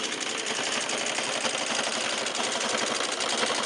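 A sewing machine runs continuously during free motion quilting, its needle going up and down in a fast, even mechanical chatter. It is close and steady from start to finish, with no talking.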